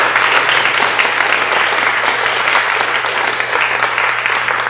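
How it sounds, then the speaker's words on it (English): Sustained audience applause fills a church hall at a Sunday service, steady, loud and close throughout with no break. "let's just give a round of applause for all"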